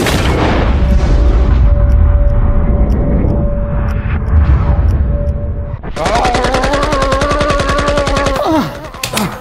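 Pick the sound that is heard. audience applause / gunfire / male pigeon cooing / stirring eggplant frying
gunfire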